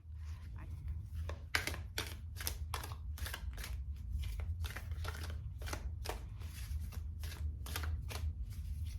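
Tarot cards from a Moon Manifesting deck being shuffled by hand, a steady run of crisp riffling bursts over a low background rumble, close and fairly quiet.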